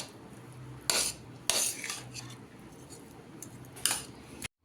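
Samosa filling with powdered sugar and coriander mixed with a spoon in a bowl: three sharp metallic clinks and scrapes stand out over a quiet, soft stirring background.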